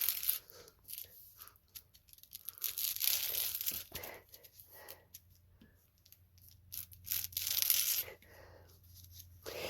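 Fabric pieces for quilt piecing are cut with scissors, producing close, crisp snipping and crinkling sounds in irregular bursts, with brief pauses between cuts.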